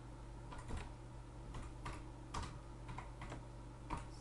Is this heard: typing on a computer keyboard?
yes